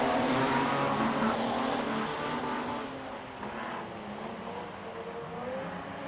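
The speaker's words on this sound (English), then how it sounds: "Tim Aitken applying plenty of pressure behind in car number 15" Speedway race cars accelerating on a restart at Gympie Speedway, a blended engine roar from the pack that is loud at first and then eases slightly as the cars pull away.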